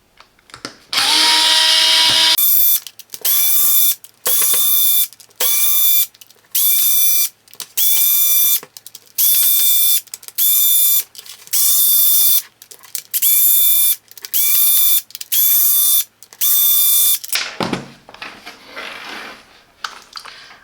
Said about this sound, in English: And I need to remove some screws.